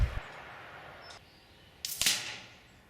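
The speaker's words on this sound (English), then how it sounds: "The camera catches the whiz of the pellet coming, but no bang from the gun." A pellet from a silenced Kalibrgun Cricket air rifle whizzes past with a short, sharp hiss and a faint snap, with no gunshot heard, after a quieter tick earlier and a soft fading tail.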